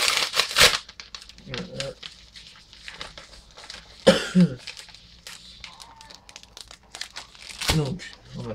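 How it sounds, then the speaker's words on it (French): A Charizard mega booster pack's foil wrapper is cut and crinkled open close by, with sharp crumpling bursts and tearing rustles scattered throughout while someone speaks and coughs briefly. "Allez, je vais découper et puis on va se voir ça."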